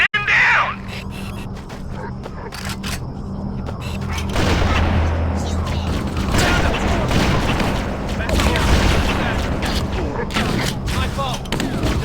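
Gunfire and explosions during a Covenant assault in the video game Halo Combat Evolved, heavy dense bursts and booms that rise after a quieter opening, with shouting voices mixed in.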